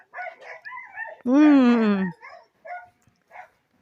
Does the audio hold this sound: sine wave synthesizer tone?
no